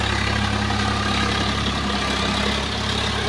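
Swaraj 742 FE tractor engine drones steadily and loud at close range while its rotavator tills a field, a constant low rumble with no pauses and no voices.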